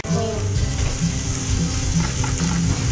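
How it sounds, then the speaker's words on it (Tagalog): Onion sautéing in a little butter in a pan for homemade cauliflower rice, giving a steady close sizzle and frying crackle throughout with a low hum underneath, no talk. "Sauteing the onion."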